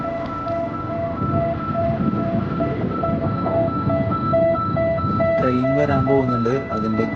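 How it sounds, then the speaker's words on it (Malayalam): Warning signal of a closing gate: a steady electronic tone repeating in even beeps over a low rumble, loud and continuous, with a voice briefly heard near the end. "ഗേറ്റ് അടയ്ക്കുന്നതിന് വേണ്ടിയിട്ടുള്ള സൗണ്ടാണ് കേട്ടത്"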